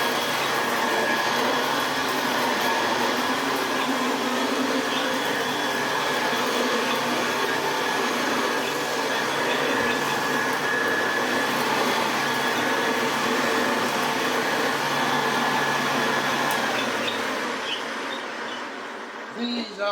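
A restored Co-Op exclusive Hoover Senior 6525e upright vacuum cleaner runs with a loud, steady motor drone and whine for the whole stretch, then starts to wind down at the end, with speech faintly under it.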